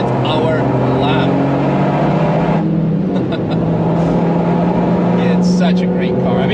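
A Toyota GR Yaris drives a lap on a track, its engine droning loud and close with a dip and shift partway through before pulling again.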